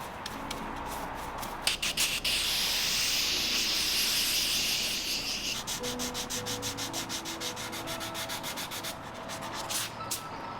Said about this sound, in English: Now I'll sand these areas with 180 grit sandpaper using various hand sanding tools like blocks and sanding sponges.